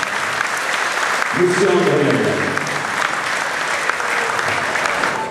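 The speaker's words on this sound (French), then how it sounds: "Je vous demanderai de faire un tonnerre d'applaudissements pour Monsieur André Yagnac" Loud, sustained applause from the audience at a Polish-music anniversary celebration of the Harmonia band in Bully-les-Mines, filling the whole stretch, while someone speaks over it at the start and a brief tonal sound rises partway through.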